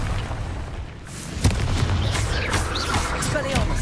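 A Confringo fire spell explodes in Hogwarts Legacy. A sharp boom cracks out partway through, then rumbling blasts continue amid a loud, dense battle din.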